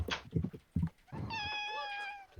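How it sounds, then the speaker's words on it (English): Cat screaming in a long, drawn-out yowl rising in pitch, loud and near, following a few short bumps and knocks, heard over a quiet room. "cat is screaming."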